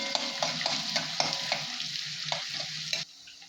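Onion tossed into a hot pan with garlic, cumin and mustard seeds, a loud busy sizzle with rhythmic stirring clinks of a utensil against the pan, then the sizzle drops away abruptly near the end.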